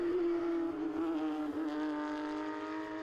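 Porsche race car of MM Racing at the Spa circuit during a Belcar Series endurance race, engine holding a steady loud droning tone with a slight pitch dip midway, continuous and close throughout.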